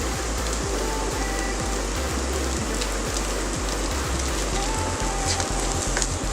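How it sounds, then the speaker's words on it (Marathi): Vegetables with Maggi tastemaker sauté in a pan on a gas stove, giving a dense, constant hiss of frying with soft regular knocks underneath, close and unbroken. "परतून घेऊया व्यवस्थित"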